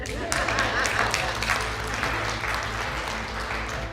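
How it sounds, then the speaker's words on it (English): An audience at a motivational talk claps together in a busy, crackling burst with sharp individual hand claps near the start. Scattered voices sound beneath it before the applause thins slightly toward the end. "You guys can clap for that."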